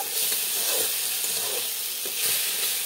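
Tenggechi fries in hot oil with fish in a pan, a steady, close sizzle and hiss running throughout, with faint stirring scrapes now and then.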